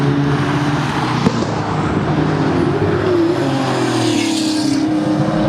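A 1973 Porsche 911 Carrera RS 2.7 engine revs and pulls hard, a loud continuous rasp rising in pitch as it accelerates, with no talk over it.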